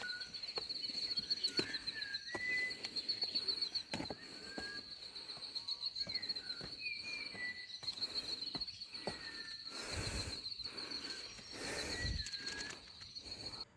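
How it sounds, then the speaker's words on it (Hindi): Birds calling near Tikona Fort, scattered chirps and short whistles over a constant high insect or cricket drone, with occasional rustling and soft thumps nearby. "आपको कुछ पक्षियों की आवाज़ सुनाता हूँ।"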